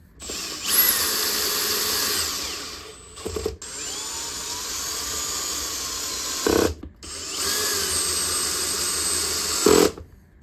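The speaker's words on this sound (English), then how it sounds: "I've got the drill on the lowest clutch setting" A power drill on its lowest clutch setting drives screws into a guitar in three bursts, each winding up and running steadily for a few seconds before stopping, with short clicks and gaps between them.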